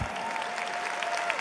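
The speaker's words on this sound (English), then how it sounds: "please give it up for Jonathan Whipples!" An indoor arena crowd at The International Dota 2 grand final claps loudly and steadily, a dense sustained burst of applause with a whistle tone running through it.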